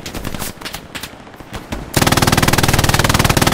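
A tank opens fire on the player in a Omaha Beach war video game, a loud rapid burst of automatic gunfire hammering steadily after a quieter stretch of scattered distant shots.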